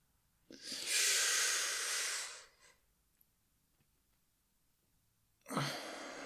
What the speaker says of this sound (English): I want everyone to just focus on taking really easy breaths, breathing down deep into your stomach